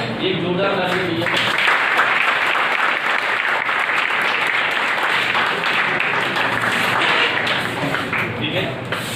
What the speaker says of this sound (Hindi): एक जोरदार ताली भैया